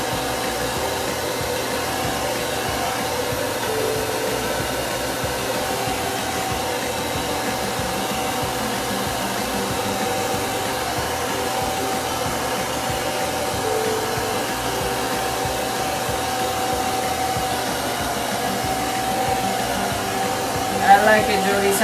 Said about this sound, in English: I'm gonna blow dry my G.